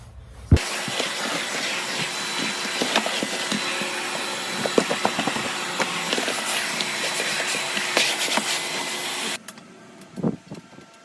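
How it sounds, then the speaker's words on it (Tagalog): A vacuum cleaner works over a thin, lightweight carpet inside an RV, switching on abruptly with a loud, steady whooshing roar and rattling debris pickup, then cutting off after about nine seconds. "Tapos na ako nag-vacuum guys."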